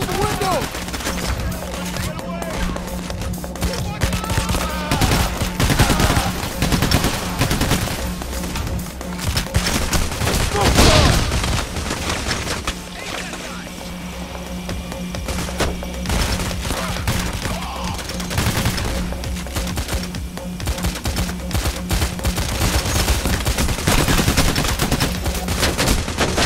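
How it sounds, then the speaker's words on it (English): Sustained gunfire fills a First World Bank robbery in Payday: The Heist, dense bursts of automatic shots and rattling impacts running throughout at a loud, steady level, with a heavy crash near the middle. "Watch where you're shooting!"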